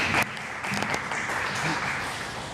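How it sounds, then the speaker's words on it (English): An audience applauds at a community meeting about transportation in Greenpoint, a steady clatter of clapping hands with some voices mixed in. "judging by the applause you do know"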